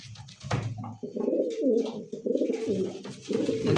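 A fancy pigeon from a breeder's stock coos in repeated deep, rolling calls, close and fairly quiet, with no talk over it.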